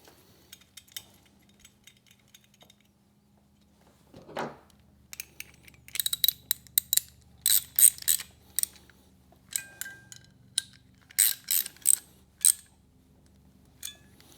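Bolts are run in on a police-style jockey shifter control kit for a motorcycle, a scatter of light metallic clinks, scrapes and ratchety taps, close by and irregular after a quiet start.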